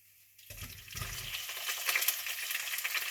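Onions go into hot oil already holding fenugreek, mustard seeds and fennel seeds while a spicy squid masala is being cooked; a brief thump and splash lead into a steady, rising sizzle.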